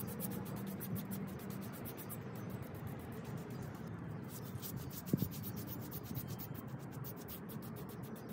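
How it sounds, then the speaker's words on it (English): A damaged MDF dresser gets sanded by hand with 220 grit sandpaper, a continuous soft rubbing and scratching that sounds close and steady throughout, with rhythmic strokes and one brief knock. "sanded it with 220 grit sandpaper just to remove those imperfections"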